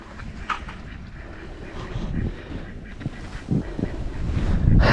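Ducks out in winter snow give a scattering of honking, nasal calls, some close and some further off, over a quiet windy background that grows slightly louder toward the end.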